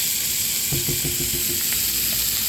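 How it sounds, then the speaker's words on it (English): Thick chunks of onion sauteing in a pan for cornbread dressing, a steady close sizzle with a few short bursts of stirring and scraping partway through. "I like thick chunks of onion in my dressing, and so I'm just going to saute that up."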